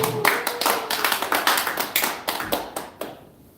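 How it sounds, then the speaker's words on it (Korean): A small seminar audience claps, each clap distinct and close, in a quick steady rhythm of about a dozen beats that trails off into silence. "박수 한번 보내주세요."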